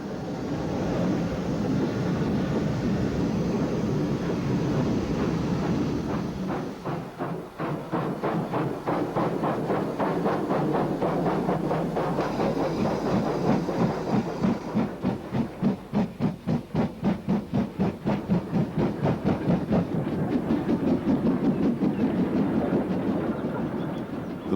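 A steam-hauled goods train, ending in a guard's van, rumbles past with rhythmic chuffing and clanking wagons, steady and fairly close, with a hissing undertone, in 1958.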